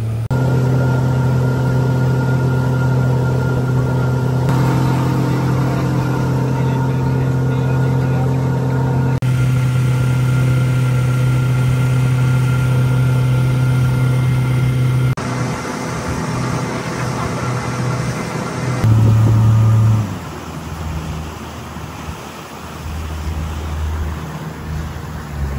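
A local boat engine starts and runs near a jetty and terminal, giving a steady loud low hum and drone. The engine shifts and revs near the end, with faint background noise.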